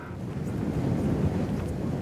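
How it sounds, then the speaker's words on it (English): Strong wind roars steadily across the microphone in freezing cold near an ice edge, a dense low rumble that never lets up, with no voices. "When it's really windy like this"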